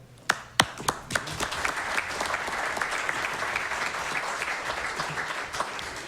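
Applause at a county commission meeting starts with a few sharp, loud individual claps near the front, then swells into steady clapping from a roomful of people that carries on evenly at moderate volume without voices.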